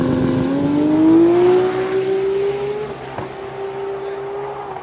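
A Toyota Supra drives past at Bristol Motor Speedway, its engine note climbing in a loud rising whine that peaks and then settles into a steady, fading drone.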